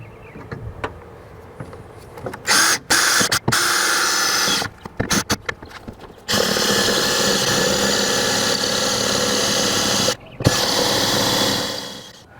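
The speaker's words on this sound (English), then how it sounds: "just drill through the center of these, get these pop rivets to pop out" A power drill drills out pop rivets on a car's power window regulator, whirring in bursts, stopping and starting several times, then running in a long steady grind before a brief pause and a final stretch.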